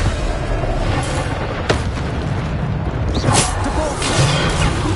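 Bombarda blasting spell explosions in the Hogwarts Legacy video game, heavy booms in a dense rumbling battle mix, with a sharp blast near the middle and another swelling burst later.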